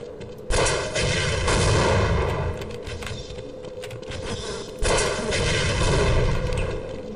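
Continuous heavy gunfire and rocket explosions in the video game Half-Life, loud and dense, with two sharp blasts standing out over a rumbling barrage.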